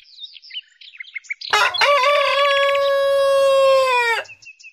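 Cartoon chickens cluck in quick, choppy bursts, then a rooster lets out one long, loud, sustained crow, followed by a few more faint clucks.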